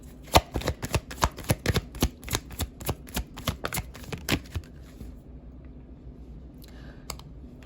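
Tarot cards are shuffled in a run of sharp, close clicks and slaps for several seconds, then stop, leaving quiet room tone.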